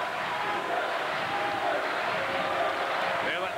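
A basketball arena crowd at a St. Bonaventure Bonnies vs Temple Owls college game sends up a continuous, broad roar and cheer that fills the hall at steady volume.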